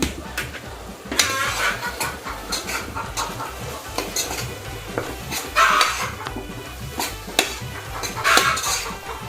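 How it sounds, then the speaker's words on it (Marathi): Mutton masala fries in a pan while a spoon stirs and scrapes against the metal, giving repeated clattering scrapes over a faint steady sizzle. "आता हा मसाला फ्राय होऊ देणार आहे।"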